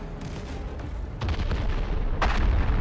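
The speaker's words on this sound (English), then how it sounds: "Another epic explosion." A T-72 tank strikes a mine and blows up, giving a heavy, loud rumbling blast that swells midway and surges again near the end, with dense low booming and crackle and no voices.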